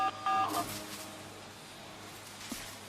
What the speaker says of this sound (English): I will manually execute the jailbreak protocol by using the keys on this phone to write lines of code.